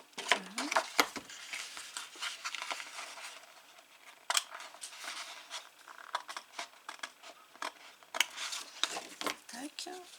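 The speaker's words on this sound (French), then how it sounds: "Je vais prendre les petits ciseaux." Small scissors snip through a paper die-cut, giving a run of crisp, quiet clicks and short cuts spread across the clip, close to the microphone, with pauses and faint handling noise between snips.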